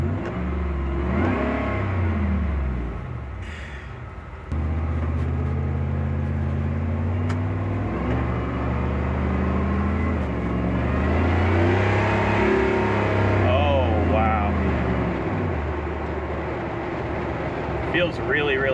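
A Chevrolet 3100 truck's Z06 engine revs up and builds speed inside the cab, its rising drone swelling and falling as it accelerates, with a voice talking over it.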